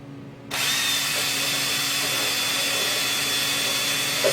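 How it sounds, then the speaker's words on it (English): A power drill starts abruptly and runs at a steady high whine while boring a hole into a car hood, loud and continuous with no talk. "So I'm going to go drill that."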